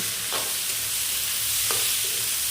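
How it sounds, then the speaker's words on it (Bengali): Steady broadband sizzling of rice and lentils frying with spices in a pan, with a couple of brief scraping strokes from stirring; no voices. "এই ফোড়নের সঙ্গে কিছুক্ষণ চাল আর ডালটা ভেজে নিতে হবে"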